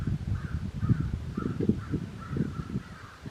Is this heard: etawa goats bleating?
no